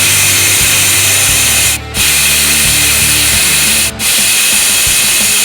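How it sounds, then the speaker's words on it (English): Air hissing steadily out of a tire through a Rough Country rapid tire deflator, a loud continuous broadband rush with two brief dips in flow. "slide this down the collar, and you're going to hear the air pressure release"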